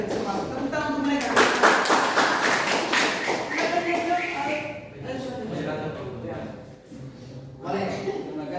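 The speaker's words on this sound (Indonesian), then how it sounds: "Tepuk tangan untuk mereka." Brief scattered clapping from a classroom of students for group 1, rising for a few seconds while voices talk over it, then fading as speech continues.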